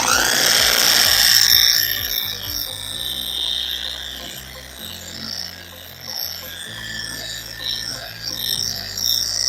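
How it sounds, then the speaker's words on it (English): Polisher with a wool pad buffing a car headlight at its slowest speed, a steady low motor whir with pad friction hiss, close and continuous throughout. "go and use the wool pad on the headlight"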